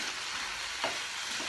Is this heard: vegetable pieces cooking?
yes